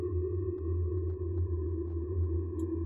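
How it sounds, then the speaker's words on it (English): Steady electronic distortion from a horror observation game, 'I'm On Observation Duty', a constant droning hum with a hiss above it, broken by faint periodic clicks and a brief high blip near the end, with no voices. "What is this distortion?"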